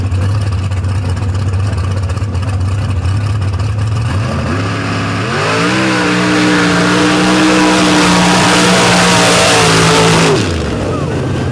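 A 1946 Chevy drag car with a 447 small block Chevy engine and Powerglide transmission roars loudly, its engine note climbing steeply and holding high for several seconds before cutting off, over constant background din.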